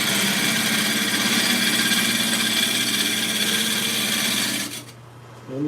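A tough oak bowl blank spins on a wood lathe, giving a loud, steady motor whine with an even rasp of cutting that drops away near the end.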